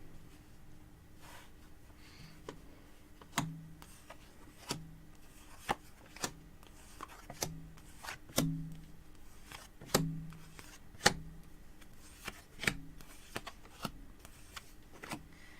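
Tarot cards shuffled during a psychic reading, heard as a series of sharp riffling bursts and soft snaps at irregular intervals, close and fairly quiet with no talking.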